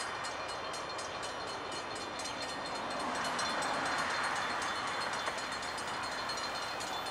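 A Norfolk Southern freight train hauled by GMTX lease locomotives rolls past in Irondale, Alabama, a steady continuous rumble and wheel noise that swells slightly midway and holds throughout, with no talking.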